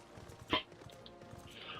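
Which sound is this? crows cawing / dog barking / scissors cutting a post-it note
dog barking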